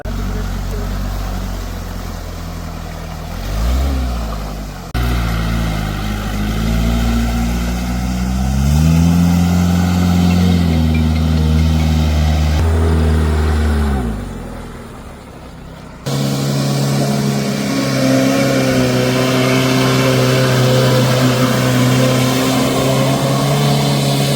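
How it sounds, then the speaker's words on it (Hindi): An SUV engine revs loudly as it is driven around an open dirt field, its pitch repeatedly rising and falling with throttle changes, and the sound shifts abruptly a couple of times. "पहली बार जो है अब मैं मैदान में गाड़ी घुमाने की कोशिश करता हूँ"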